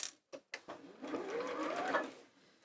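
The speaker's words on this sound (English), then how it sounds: "And I'm going to sew again on this side, all the way down there. Go back to the machine." A sewing machine stitches fabric in a short burst, with a few quick clicks and taps first and then a continuous mechanical whir that speeds up slightly before stopping abruptly.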